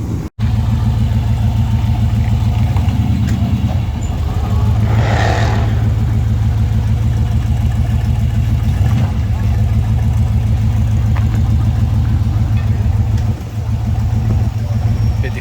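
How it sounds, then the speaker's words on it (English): Cars rolling into a car show, including a '57 classic, with steady loud engine rumble and idling throughout and a brief rev midway, no speech. "let's go check out some of the cars as they come in now"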